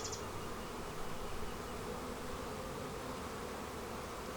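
Honey bees swarm and buzz in a steady, close drone as a top box is opened during a hive inspection in a green and red bee barn, the hum dense and continuous with no talk over it.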